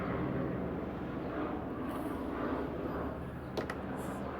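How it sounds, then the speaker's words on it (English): A helicopter flies overhead outdoors, a steady loud broadband rotor and engine roar that fills the whole stretch, with no talking. "sorry about another helicopter"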